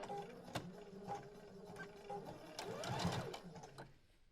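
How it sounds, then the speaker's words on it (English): A sewing machine stitching fabric while a hoopskirt is being upgraded, running in steady quiet bursts of rapid needle chatter with a faint motor whine, close by and alone. "So basically what we are going to do is I'm gonna sew here"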